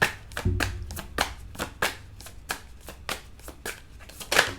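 Tarot cards are shuffled and drawn from a deck, a rapid series of crisp, close riffling snaps and soft slaps in an irregular rhythm, with a faint low hum early on; no talking.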